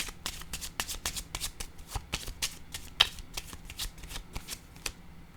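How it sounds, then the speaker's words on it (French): Playing cards dealt and laid down one after another on a table during a card reading, a steady run of crisp close slaps and flicks with no talking. "Je vais déposer une autre carte ici."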